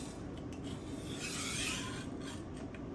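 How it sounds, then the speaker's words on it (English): A knife blade is drawn in light back-and-forth strokes on a SharpWorx Master 2 guided sharpener, making soft, continuous raspy scraping close up with no voices. "the name of the game here is just light back and forth strokes, periodically checking to see if the burr is removed"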